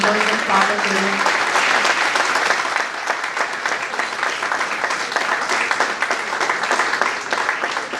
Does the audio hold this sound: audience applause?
yes